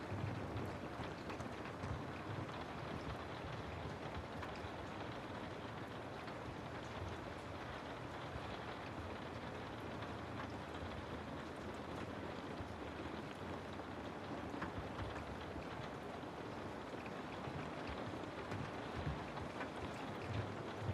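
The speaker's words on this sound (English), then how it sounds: "There is only the feeling of warmth and the sound of the rain." Steady, even rain falls continuously without a break, a soft broadband hiss that stays low and unchanging throughout.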